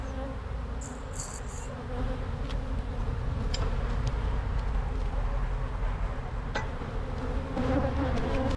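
Honeybees drone and buzz steadily and close up in an opened backyard hive during an early-season check, a dense insect hum running throughout with a few brief knocks.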